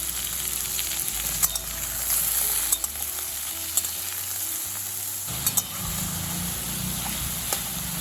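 Ridge gourd and potatoes sautéing in a pan for a poppy-seed chorchori, a steady close sizzle with occasional scrape and clatter of a spatula stirring, no voices.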